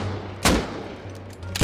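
Sniper gunfire in the survival video game Rust, two sharp shots a second apart over steady background game noise, with no talking.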